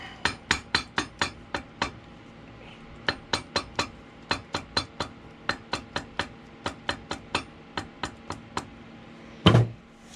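A hammer taps a sandal strap during a Dansko sandal toe bar repair, giving a long run of sharp, light, evenly spaced knocks in quick clusters, close and clear, ending with one heavier thud.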